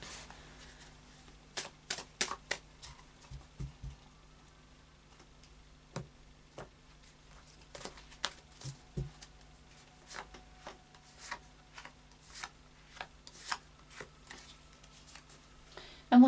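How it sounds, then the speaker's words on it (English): Tarot cards being shuffled by hand, a deck of the Anna K Tarot, giving scattered crisp riffles and taps in short irregular bursts against a quiet room, with no talking. "a final shuffle then of the Anna K Tarot for clarification and depth"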